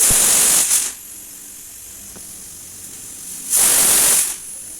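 Two loud bursts of hissing steam rush out of a pressure cooker boiling banana flower, one at the start and another near the end, with a steady quieter hiss in between.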